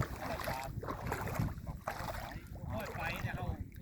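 Wind gusts over the Mekong river, buffeting the microphone with a loud, steady rumbling roar and scattered splashy water sounds, while someone speaks through it.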